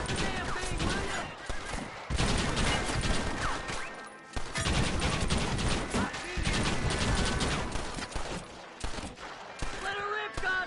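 Dense bursts of gunfire, rapid volleys and single shots, crackle across a shootout in the western video game Red Dead Redemption, loud and close, with shouted voices and horse hooves mixed in.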